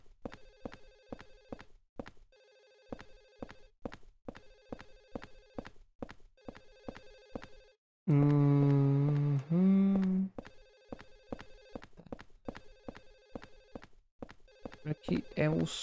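A telephone rings in the Silent Hill 4 video game, its bell sounding in steady repeated bursts with short gaps. A voice briefly talks over it midway, and the ringing resumes afterward.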